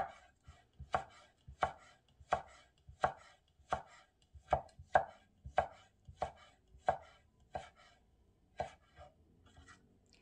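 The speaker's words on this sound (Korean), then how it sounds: "채 같이 썰어주세요. 밀면서 가늘게" A knife cuts vegetables into fine julienne for chiljeolpan on a cutting board, with a steady series of about a dozen crisp close chops and brief pauses between strokes.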